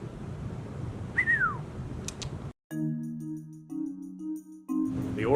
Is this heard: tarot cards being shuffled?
no